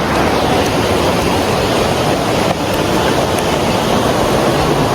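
Rushing river water gives a loud, constant broadband roar that stays dense and unbroken from start to finish.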